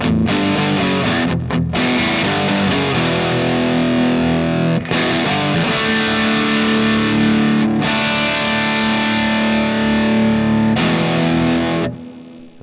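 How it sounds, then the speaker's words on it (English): Distorted electric guitar played through an affordable amp modeler, a thick sustained chord with raspy, fizzy, fake-sounding digital high end and loose bottom end, held near continuously with a couple of brief breaks before ringing out. "you can really hear the raspiness and like fake digital sounding"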